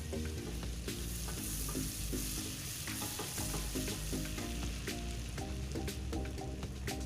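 Ginger and garlic fry in melted butter in a pot for butter chicken, giving a steady, close sizzle with rhythmic clinks and scrapes of stirring throughout.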